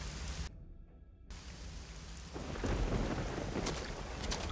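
Thunderstorm in Risen 2: Dark Waters, with a steady wash of heavy rain and rolling thunder that swells louder toward the end after a brief drop-out.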